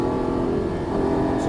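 Engine of a Lamborghini Gallardo LP550 accelerating on a course marked with cones, a steady rising drone heard from inside the car under an instructor's voice.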